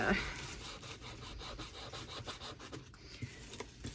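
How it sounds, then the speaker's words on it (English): Playing card backs being roughened for glue, a steady close scraping rub with short repeated strokes, fairly quiet and continuous throughout. "we have to roughen the backs up so that the glue will adhere to the"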